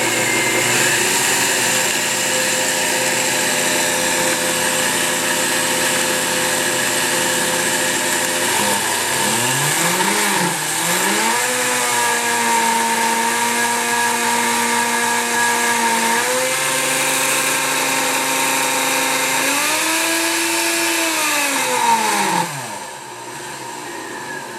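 Blender fitted with a One Cup Alterna mason jar adapter grinds coffee beans: a loud, steady motor whine that shifts pitch as the beans break up, running continuously for over twenty seconds before cutting off near the end.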